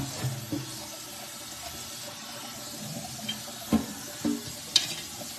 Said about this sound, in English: I'm just rinsing all my veggies.